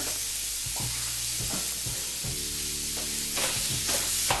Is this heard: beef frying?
yes